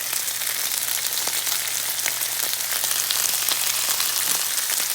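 Sliced potatoes seasoned with salt and pepper fry in a pan with a steady, dense sizzle and crackle that holds even throughout, with no talking.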